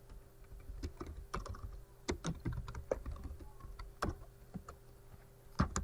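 Fingers type steadily on a computer keyboard while entering a script, a close, dense patter of key clicks with occasional louder strokes and no talking.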